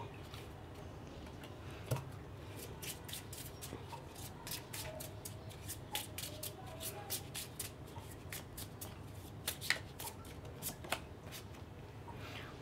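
Tarot cards being shuffled in a steady run of soft riffling clicks and snaps, close and fairly quiet, lasting throughout with a low background hum and no talking.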